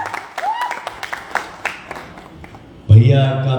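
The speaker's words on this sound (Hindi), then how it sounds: "मैं चाहूँगा जोरदार ताली हो जाए।" At the launch event for the Bhojpuri film Saari Bulkiya, someone speaks into a microphone, then a loud burst of audience applause and clapping breaks out near the end.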